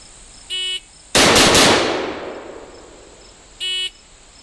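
A single sharp, loud shot from an MK47 semi-automatic carbine cracks out and decays over about a second. Two short electronic timer beeps come before and after it.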